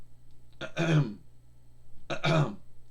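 Two separate throat clearings, short rasping bursts spaced about a second apart, close and fairly quiet against a soft background hum.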